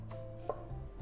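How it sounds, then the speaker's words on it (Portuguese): A kitchen knife slices through an onion on a cutting board while preparing a creamy parmesan risotto, giving one soft, close cut against a steady background hum. "Para cortar a cebola, coloca ela de lado, os dedinhos para dentro e devagar eu vou laminando."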